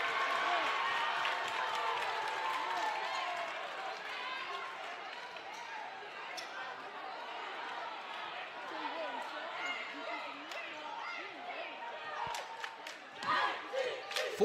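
Crowd at a high school basketball championship game between Evans and Lakeside reacting to a foul call: sustained mid-distance roar of voices and shouting, tapering slightly, with a play-by-play announcer talking over it.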